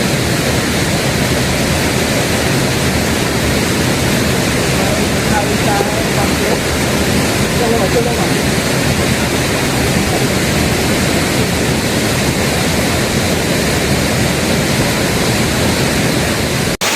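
Steady roar of a hidden waterfall deep in the jungle, a loud continuous broadband rush of falling water that stays even and unbroken throughout, close to the camp.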